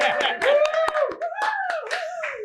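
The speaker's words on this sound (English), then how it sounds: "Let's give them a round of applause." Scattered hand claps from an audience greet a motorcycle unit at a live club event, several separate sharp claps sounding under a voice that keeps talking.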